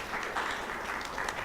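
An audience at a design conference panel applauding, brief scattered clapping at moderate distance, fairly faint and steady.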